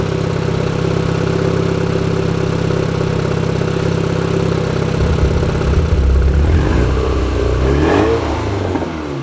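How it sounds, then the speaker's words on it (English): A turbocharged Honda Civic running after its first start, its engine droning steadily and close at idle, then shifting and wavering in pitch as the revs change briefly near the end. "We got the car running."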